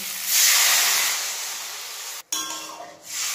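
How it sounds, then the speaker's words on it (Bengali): Water is poured into a pan of hot, cooked-down spice paste for a fish curry with cauliflower, giving a loud, steady sizzling hiss that briefly cuts out and then resumes more softly. "এবার আমি পরিমাণ মতো জল দিয়ে দেবো।"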